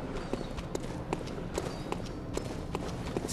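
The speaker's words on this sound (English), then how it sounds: "I feel like I can always hear footsteps." Footsteps in the Bloodborne video game, a quick run of sharp, fairly regular steps over a dense, noisy game background with no talk.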